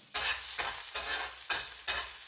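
Garlic frying in cooking oil for ginisang monggo, a close sizzle broken into bursts by repeated stirring strokes, roughly every half second, with no talking.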